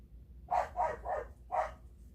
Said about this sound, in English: The dogs are out there going nuts.